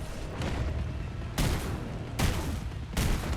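A shotgun in the shooter game Afterblast fires three heavy booming blasts at roughly even intervals, loud and close over a dense rumbling game background.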